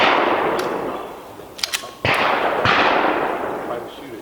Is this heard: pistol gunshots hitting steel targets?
yes